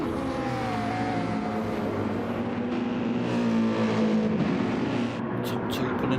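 BMW GT3 race cars in a racing game sweep through corners, their engines droning and shifting pitch steadily while a commentator talks over them.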